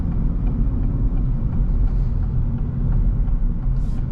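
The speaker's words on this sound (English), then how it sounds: "And the exhaust sounds really good." A 2024 Acura Integra Type-S, a front-wheel-drive car, drones steadily with engine and exhaust noise while driving on a morning run, a continuous low rumble heard from inside the cabin.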